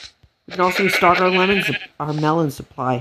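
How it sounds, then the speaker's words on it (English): Sheep in a video game bleat in a series of wavering, tonal calls, loud and close, with brief pauses between them, while a person speaks over them. "But now this is an actual sheep."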